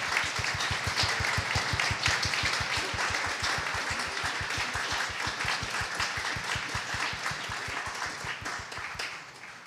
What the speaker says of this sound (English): Let's give everyone who's performed tonight one final round of applause as a thank you before we go.